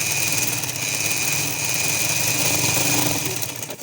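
A sewing machine runs steadily, stitching double rows of gathers on a newborn baby frock, its motor hum and needle clatter continuous and fairly close for the whole stretch with no talking.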